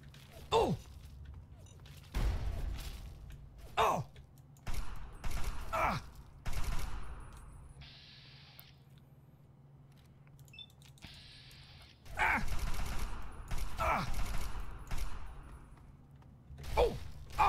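Automated turret gunfire from the video game Fallout 3: loud broadband bursts of shots arrive in irregular clusters, with a couple of sustained mechanical whirs in between, close and prominent.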